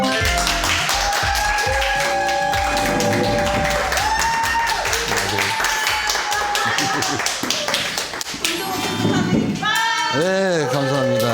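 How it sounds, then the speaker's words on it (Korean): Applause from an audience, with many hands clapping in a dense, sustained patter close by, mixed with cheering and tones from a studio broadcast, and a voice speaking near the end. "자, 박수 쳐드려요?"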